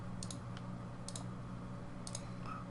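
Sharp computer mouse clicks while modeling a 3D head, a quick double click near the start, another pair around a second in, and a third pair later, crisp and close over a steady low hum.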